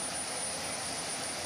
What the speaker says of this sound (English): That sound is a jet engine spinning up to speed.